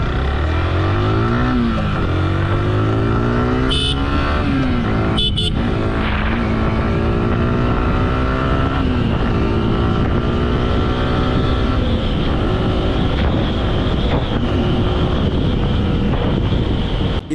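A Yamaha R15M V4 155cc sport motorcycle with quick shifter revs steadily on an open road, its engine pitch climbing and dropping through several gear changes, loud and continuous beneath heavy wind rush.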